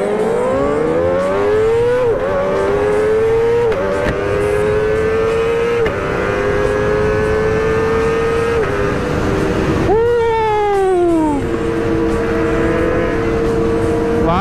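Sport motorcycles, a Kawasaki ZX-10R and a Yamaha R6, rev hard with rising and falling engine pitch, loud and close, one rider running up through the gears in repeated pulls, another sharp rev near the end.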